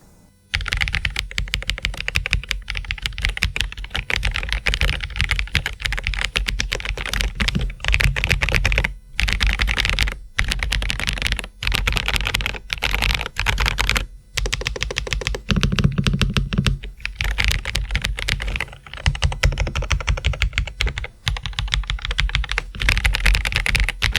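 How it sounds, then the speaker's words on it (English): A Redragon K673 Pro mechanical keyboard is typed on in a rapid, continuous stream of loud, crisp key clicks, close up, with only brief pauses and no talking. "let's now go ahead and do a typing test on this keyboard, the K673 Pro from Redragon"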